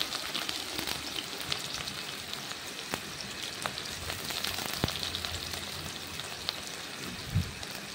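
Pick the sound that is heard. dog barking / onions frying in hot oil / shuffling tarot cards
onions frying in hot oil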